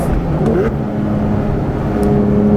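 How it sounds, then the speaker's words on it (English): A Porsche 911 GT3 engine revs loud and steady in close interior perspective, its tone shifting as the driver downshifts into fourth gear on a highway, with no voices over it. "And then the feeling of downshifting, like here, let's go to fourth."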